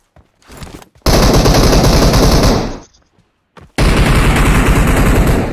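Loud automatic gunfire in the PUBG video game, heard as two long sustained bursts of rapid shots separated by a short pause, with a few single shots before the first burst.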